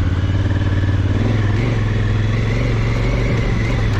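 A motorcycle engine runs steadily up close after being started with the starter, giving a loud, even, throbbing idle with a regular low pulse and some mechanical clatter throughout.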